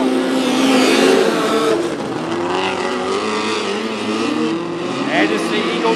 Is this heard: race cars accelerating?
yes